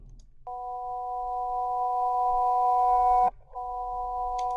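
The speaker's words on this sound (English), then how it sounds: "we're running the analog tape machine backwards, and so there's our reverse piano" Piano played backwards on an analog tape machine: a sustained tone swells gradually louder, then cuts off abruptly, and a second reversed note begins right after, heard clearly with no talk.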